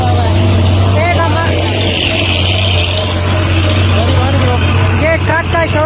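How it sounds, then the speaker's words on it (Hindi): A truck rumbles past outside near a university, a steady loud engine drone with low hum that fills the whole stretch while voices chatter faintly underneath. "ये ट्रक का शोर था"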